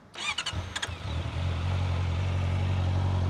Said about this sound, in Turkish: Böyle bir rölanti sesi var.